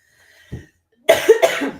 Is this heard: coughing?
yes